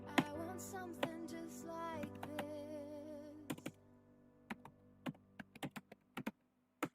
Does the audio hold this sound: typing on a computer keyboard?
yes